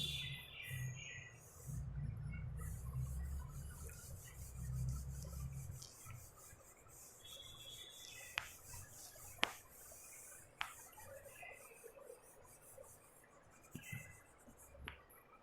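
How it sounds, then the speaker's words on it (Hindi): Chalk or marker scratches and rubs across a classroom board as an equation is written, a faint, steady scraping with irregular strokes and a few sharp taps, heard close with no talking. "फटाफट अभी पूरा इक्वेशन में ऊपर लिखता हूँ"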